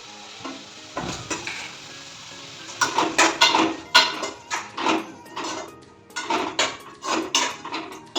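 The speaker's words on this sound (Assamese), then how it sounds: "তাৰপিছত মই এতিয়া এই মগুখিনি ভাজিলোঁ" Moong dal fried in a pan, heard as a close run of scraping stirs and metallic clinks of a utensil against the pan over a light sizzle, the knocks coming in irregular bursts with no talking.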